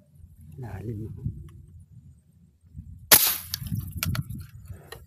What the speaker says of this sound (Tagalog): Makalampag ang putok noon.